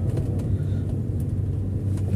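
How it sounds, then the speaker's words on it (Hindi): A car coming along a village road in Saudi Arabia on the wrong side gives a continuous low engine and tyre rumble, close and steady for the whole short stretch. "और ये रॉन्ग साइड से गाड़ी लेकर के आ रहा है"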